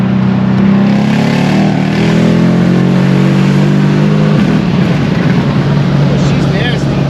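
A Mercedes CLS63 AMG running E85 fuel accelerates hard, its engine note climbing loud and close through a sustained pull before shifting into a rougher roar, with a voice faintly underneath.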